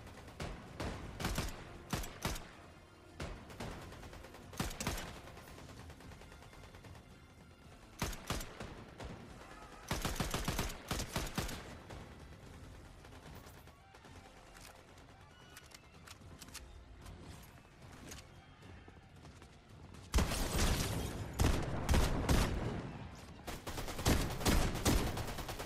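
Gunfire in the Fortnite video game: repeated bursts of rapid automatic shots separated by quieter gaps, with a heavy, dense barrage near the end, and no talk.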